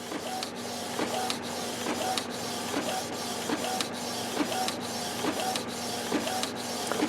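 A Canon IP8720 inkjet printer feeds plain paper, its print head shuttling back and forth with steady rhythmic whirs and periodic clicks over a continuous mechanical hum, close and alone.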